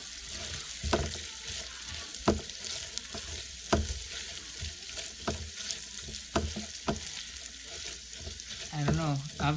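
Noodles cook in a wok with a constant sizzle punctuated by regular sharp knocks and scrapes of stirring, fairly close and moderately loud.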